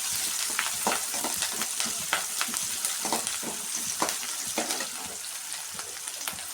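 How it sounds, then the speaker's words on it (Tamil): Chopped onions sauté in a hot pan for a banana flower poriyal, giving a steady close sizzle broken by frequent light scrapes and taps of stirring. "வெங்காயம் போட்டு வதக்கிக்கலாம்"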